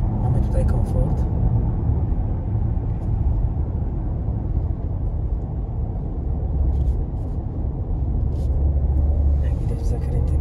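Maserati Grecale GT SUV driving in a comfort mode, its engine a steady low rumble beneath constant road and tyre noise inside the cabin, continuous throughout with a few faint higher ticks.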